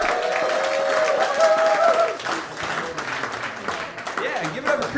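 Comedy club audience applauding a comedian, a dense burst of clapping and cheering that thins out after about two seconds, with a host talking over the crowd.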